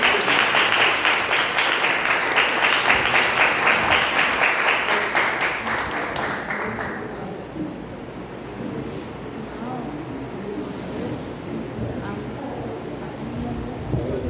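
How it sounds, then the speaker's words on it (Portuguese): A congregation at a youth church service in Guarujá applauds, dense steady clapping that thins and fades about halfway through into a quieter room murmur. "Você pode sentar e aplaudir o nome do Senhor Jesus?"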